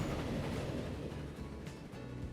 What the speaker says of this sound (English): There's a train whizzes past.